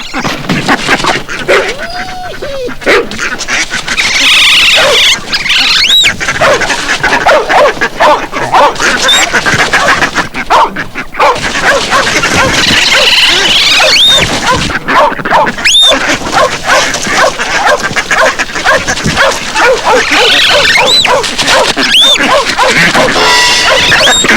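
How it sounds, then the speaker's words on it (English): A dog barks repeatedly in a 1978 otter film soundtrack, sharp yips and bow-wows scattered over a busy background, mixed with whimpers and occasional voices and effects. "Dog!"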